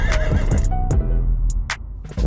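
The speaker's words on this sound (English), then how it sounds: "Horses won't stop galloping just because you want to look cool." A horse whinnies loudly and close by, with a few galloping hoof thuds and sharp bursts of noise cutting in between the calls.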